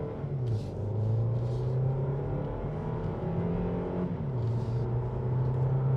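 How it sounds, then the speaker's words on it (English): A 2023 Kia Xceed plug-in hybrid accelerating hard in sport mode, a rising engine drone that climbs steadily, drops briefly at a gear change, then climbs again under cabin road noise. "So I've put the car in sport now, and we're gonna accelerate hard."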